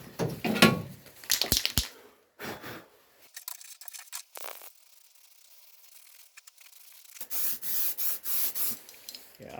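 Spray paint hisses onto a Ford Escort MK1 rear scuttle panel in a series of short, even bursts near the end, following scattered handling clatter and scraping earlier on.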